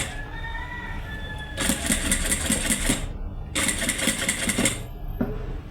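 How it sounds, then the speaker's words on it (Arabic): A sewing machine stitches a fabric tote bag in two rapid, rattling bursts of about a second and a half each, close and fairly loud, with a quiet pause between them and a short start at the end. "درك هاني قاعده نخيط في الكات كوتي"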